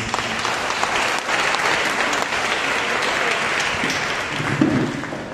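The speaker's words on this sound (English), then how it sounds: "Use the mighty clap to Jesus." A congregation at a Monday prayer meeting breaks into sustained applause, a thick wash of many clapping hands that holds steady for several seconds and swells slightly near the end, with a little crowd noise.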